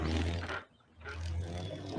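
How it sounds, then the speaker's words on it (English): Mechanical moaning effect from the Riven video game: a loud, low droning groan with a rough, roar-like texture that breaks off briefly midway, then resumes and sustains to the end, with no voices. "A mechanical moan, yeah."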